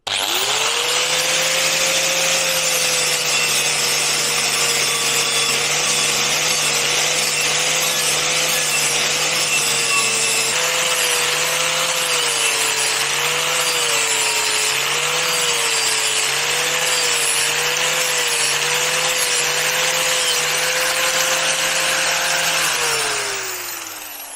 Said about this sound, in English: So now I'll flap disc it smoother on the vise.